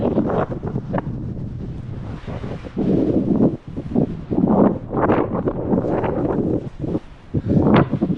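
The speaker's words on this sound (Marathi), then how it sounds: "ढग आलेत हवा पण खूप जोरात चालू आहे" Strong wind gusts roar across the exposed slopes of Girnar mountain under heavy cloud, buffeting the microphone in loud, uneven surges with brief dips, with no talk.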